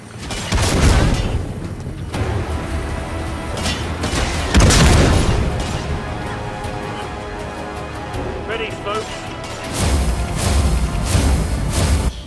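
Rocket explosions go off in the video game Killing Floor 2 as loud repeated booms mixed with gunfire bursts and crashes, set against constant game noise.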